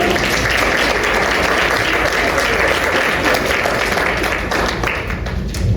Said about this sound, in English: Let's give them a round of applause for showing up.